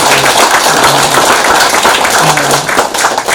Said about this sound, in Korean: 다시 한번 더 큰 박수로 감사와 격려를 부탁드립니다